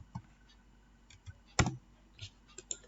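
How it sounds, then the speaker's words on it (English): Scattered computer keyboard keystrokes while a colour name is entered for an Excel button macro, a few soft clicks spread out with one louder tap in the middle, close and quiet, with no voice. "So I am typing green."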